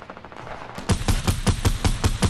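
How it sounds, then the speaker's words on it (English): Gunfire in a video game, after a quiet start a steady run of about ten evenly spaced heavy shots, loud and close, with no talk over it. "I'm just shooting."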